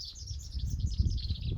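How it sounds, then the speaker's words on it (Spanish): Birdsong in a village near the Uyuni salt flat in Bolivia: a high, wavering run of chirps and calls lasting under two seconds, with a steady low rumble of background noise underneath and no voices. "Es un pájaro que hace el sonido."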